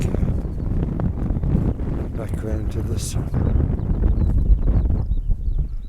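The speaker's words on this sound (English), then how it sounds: "It's so windy and cold though." Steady roaring wind buffets the microphone throughout on a cold summit of Hedgehope hill in Northumberland, with a person talking over the constant low rumble.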